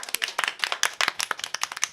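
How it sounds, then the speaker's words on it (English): A crowd claps for the players at the end of a live tabletop adventure game session, with quick, crisp, overlapping handclaps close by, continuing evenly throughout. "a round of applause for our players"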